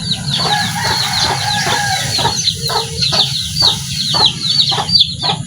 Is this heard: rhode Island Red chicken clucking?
yes